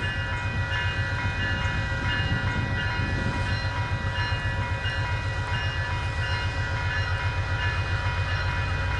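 A VIA Rail train number 84 gives sustained, tonal horn blasts over the steady rumble and rhythmic clatter of the passing train, loud and close.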